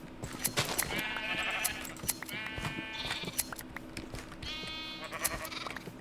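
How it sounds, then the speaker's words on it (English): Sheep in the Minecraft video game bleat three times as they are sheared, with short wavering cries amid scattered clicks and soft game sounds. "let's go shear these sheep, since, you know, we have plenty of sheep that need shearing"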